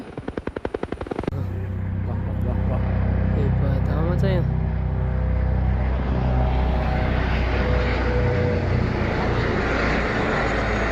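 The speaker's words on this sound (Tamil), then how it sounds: "கொடைக்கானலை சுற்றி வட்டம் போடும் ஹெலிகாப்டர் இது" A helicopter's rotor chops loudly at first, then its engine drones steadily overhead as it circles Kodaikanal, a sustained roar with shifting tones.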